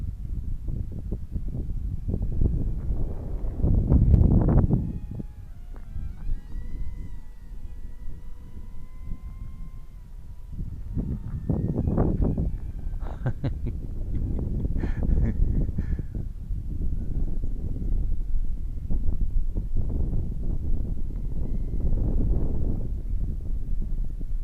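Gusty wind buffets the microphone in rough low rumbles, swelling and easing over time, with faint whirring in the background from a KFPLAN Z55 MQ-9 Predator RC plane, and no speech.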